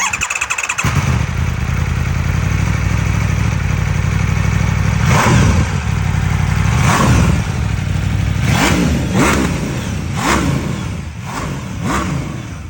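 A TVS sport motorcycle engine idles loudly, then revs up repeatedly in several sharp bursts toward the end, heard close and alone.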